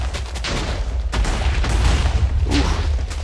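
Rapid, overlapping TNT explosions in Minecraft form a continuous rumbling barrage with repeated booming thumps and no gaps between blasts.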